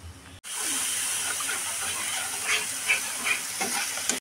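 Spinach kofta curry gravy cooks in a pan with added water, giving a steady close sizzling hiss with soft bubbling and faint stirring scrapes throughout, no voices.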